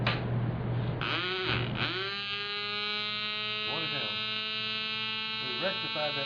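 A small electric motor runs on rectified DC current, giving a steady, even hum with a strong low tone and bright harmonics that holds throughout, with brief louder surges near the start and faint rustles at intervals.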